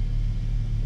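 Car engine rumbling at a Porsche club racing event after an intake swap: a steady, deep, close rumble with a slight pulsing throb, no voices.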